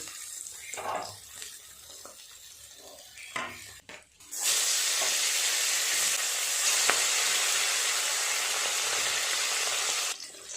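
Parshe fish fry in hot oil in a pan, a loud steady sizzle that rises suddenly after a few seconds of quieter clatter and holds until the end, with brief talking early on.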